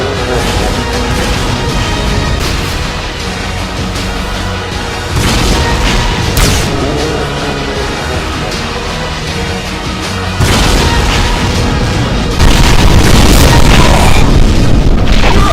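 A Cyberdemon in a DooM mod launching Demon Tech BFG shots, heard as a relentless loud wall of booming explosions and crashing impacts that swells in intensity toward the end.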